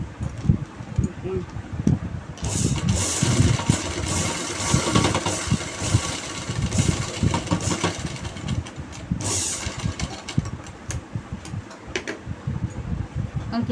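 A sewing machine with a slightly loose belt running side cut stitching, a busy mechanical whir and rapid clatter that starts and stops in bursts, close and fairly loud.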